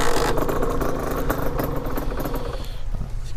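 A cold 50cc motorcycle engine being started, giving a loud, close clattering mechanical rumble with uneven pulses that carries on throughout, with no talk.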